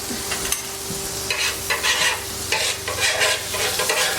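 A spoon stirs ingredients melting in a hot pan on the stove for blueberry syrup, steady scraping and soft sizzling close by with no talk.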